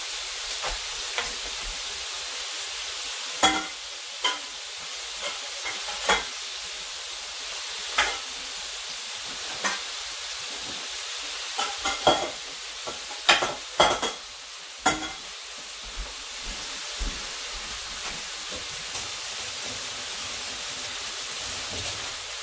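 Food sizzling in a hot pan, a soft steady hiss broken by frequent sharp clinks and scrapes of a utensil stirring, with no talking.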